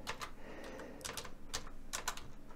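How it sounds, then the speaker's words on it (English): Fast keystrokes on a computer keyboard come in short bursts of clicks over steady room noise, with brief pauses between the runs and no voices. "I'm typing."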